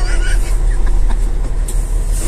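A car with a 10-inch exhaust and a turbo accelerates hard, giving a loud, close, continuous rumbling roar with a shift partway through, and a voice is faintly heard over it.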